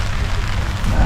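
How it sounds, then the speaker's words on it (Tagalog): Steady rain falls on a lakeside campsite, a dense close wash of patter continuing throughout without a break. "Okay, so, inuulan na naman kami."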